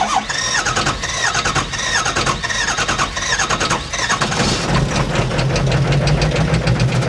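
Ford Powerstroke diesel swapped into a Mustang, held flat on the rev limiter, a loud steady engine drone with a rhythmic cutting stutter throughout.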